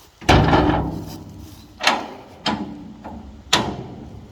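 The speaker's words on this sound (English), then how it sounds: "has a sliding rear door on it, can slide to the side" The sliding rear door of a livestock trailer is worked by hand, producing four sharp metallic clanks and bangs spaced a second or so apart, close and loud, each trailing off with a short rattle.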